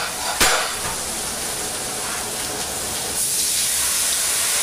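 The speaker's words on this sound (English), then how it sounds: "Once the artichokes, leaves and onions have cooked and they're sauteed, we add white wine to deglaze." A pan of sautéed artichokes, artichoke leaves, onions and garlic hisses steadily as white wine is poured in to deglaze, with a sharp splash and crackle early on and the sizzle growing brighter and louder toward the end.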